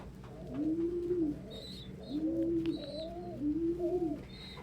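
Pigeons or doves coo at a backyard bird feeding spot, three drawn-out cooing phrases close by, with faint chirps from other birds in between.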